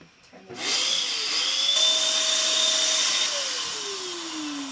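A vacuum cleaner with a freight glove fitted loosely on its tube starts up after a few clicks and runs loudly and steadily, its motor pitch wavering and slowly sagging toward the end.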